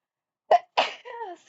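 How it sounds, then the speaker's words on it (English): One close, sharp sneeze with a quick intake before it, followed by a short voiced exhale, isolated in silence. "I'm about to sneeze."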